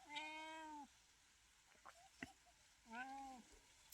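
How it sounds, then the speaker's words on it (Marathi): A wild jungle cat on a farm meows twice, two drawn-out, close calls separated by a pause with a few small clicks. "ही शेतातली मांजर आहे बरं का मित्रांनो रान मांजर"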